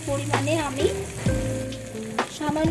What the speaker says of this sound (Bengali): রসুন আর আদাটাকে আমি ফোড়নের সাথে খুব ভালোভাবে মিক্স করে ভেজে নিব 1 মিনিট